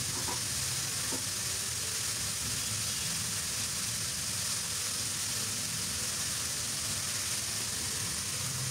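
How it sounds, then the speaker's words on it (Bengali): Salted vegetables for a curry sizzle softly in a pan while being stirred, an even, faint hiss that barely changes throughout. "লবণ দিয়ে একটু নাড়াচাড়া করে ভেজে নিলাম।"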